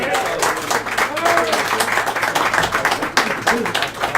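Applause and clapping from a pub audience at a traditional Irish music session, a dense, lively burst of many hands close by that carries steadily for a few seconds, with cheers and voices mixed in.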